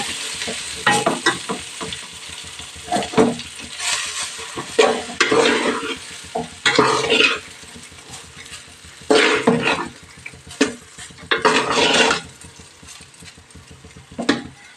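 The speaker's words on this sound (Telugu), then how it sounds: "రైస్ మొత్తం వేసాం కదా కలుపుదాం ఇప్పుడు చూడండి ఇలా" Pudina mint rice being stirred in a pan, a spoon scraping and turning the grains in bursts of close, scratchy stirring over a soft background sizzle, with short pauses between strokes.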